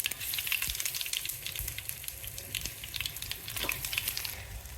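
Sesame seeds and asafoetida sizzle in hot oil for a dhokla tempering, a close, crackling fry with sharp pops scattered through a steady hiss, no voices.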